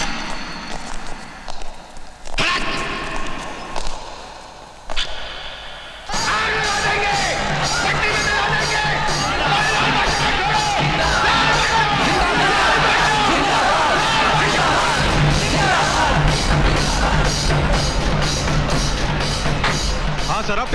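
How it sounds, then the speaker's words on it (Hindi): A crowd of people shouts and yells outside, a loud continuous roar of many voices with whoops and cheers, preceded by a few seconds of scattered nearby talk and movement. "ऐसे बाहर कुछ लोग चिल्ला रहे हैं, मैं उन्हें संभाल लूंगा।"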